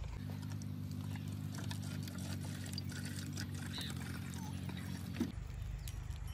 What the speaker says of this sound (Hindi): तो मैं पानी भर रहा हूँ इसमें।